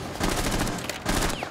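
Rapid bursts of automatic gunfire in Rainbow Six Siege, a dense, loud barrage of repeated shots in two clusters with brief gaps, filling the whole moment.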